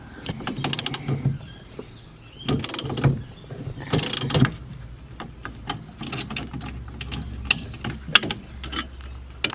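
Ratchet wrench loosening bolts on a Toyota Coaster brake master cylinder, a series of quick metallic clicking bursts in irregular spurts with short pauses between, close and fairly loud, no talking.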